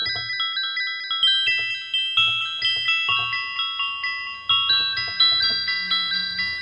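Wind-chime-like notes from a Behringer Brains synthesizer run through delay, overlapping bright pings ringing in quick succession and smearing into a shimmering wash.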